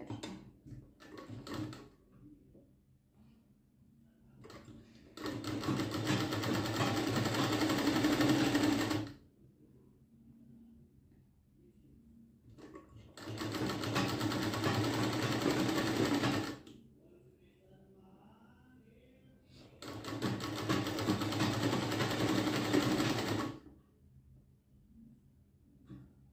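Sewing machine stitching lining fabric onto a puff sleeve, running in three steady bursts of several seconds each with quiet pauses between, close and fairly loud.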